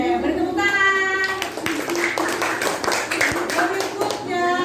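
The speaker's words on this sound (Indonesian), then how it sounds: "Oke, beri tepuk tangan." Group of people in a classroom clapping hands in a short, uneven burst of claps, with speaking voices at the start and end of the clip.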